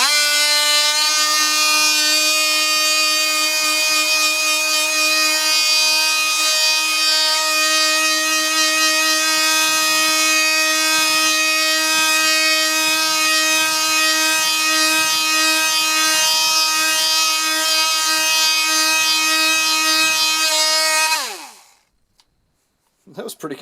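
A ToolPRO 18V cordless oscillating multi-tool buzzes with a steady high-pitched whine for about twenty seconds, faint scraping beneath, then winds down and stops abruptly.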